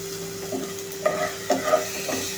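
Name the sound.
green chilli and garlic paste frying in oil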